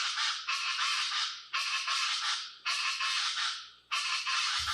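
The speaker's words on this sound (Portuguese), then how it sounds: "O araquã do Pantanal" Pantanal chachalacas give loud, grating, rhythmic chorus calls in four long bursts, each harsh phrase fading slightly before the next begins, close and dominant.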